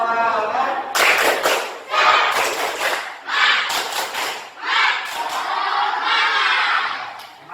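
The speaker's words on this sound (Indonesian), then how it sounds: "Hitungan ketiga kita mulai, ya. 1, 2, 3, tepuk semangat." A class of schoolchildren claps the rhythmic 'tepuk semangat' pattern together in bursts of quick claps with short pauses between groups, loud and close in a classroom, with voices mixed in.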